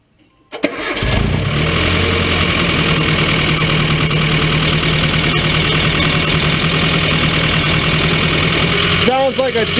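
The engine of a Nissan pickup with a KA24E cranks and starts right after a rocker arm replacement, then settles into a loud, steady, clattery idle close by. It runs for about nine seconds before a brief sound change near the end.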